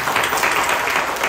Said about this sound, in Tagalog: Palakpakan natin yung palakpak ng mga saved.